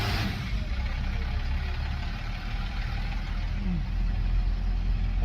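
A Dodge W400 diesel truck engine runs close by with a steady low rumble and a faint turbo whistle over it, holding even for several seconds.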